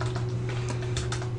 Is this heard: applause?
no